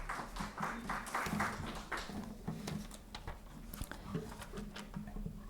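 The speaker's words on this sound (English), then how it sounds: "Please give huge round of applause," A summit audience in New Delhi applauds as a guest takes a seat on the dais, with scattered hand claps of uneven rhythm, moderately close and thinning as the clapping goes on.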